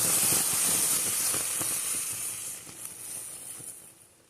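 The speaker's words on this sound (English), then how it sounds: "One whole minute of boiling." A loud, bright hiss of wild violet jelly vigorously boiling in a pot, fading gradually over a few seconds with scattered pops and bubbles.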